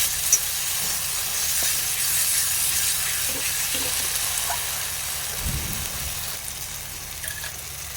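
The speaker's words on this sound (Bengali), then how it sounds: "ভাজা ভাজা হয়ে গেছে এখন দিয়ে দেবো জল" Water poured into frying poppy seed paste in a pan makes a sustained steamy hiss, with a soft low thump partway through.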